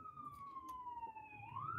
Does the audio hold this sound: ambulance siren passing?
yes